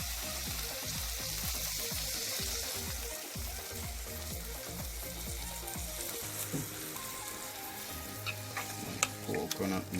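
Coconut milk being stirred into a salt mackerel rundown, a Jamaican breakfast dish, with rhythmic low spoon strokes through simmering liquid over a soft bubbling sizzle, then lighter clinks and splashes toward the end, close and without speech.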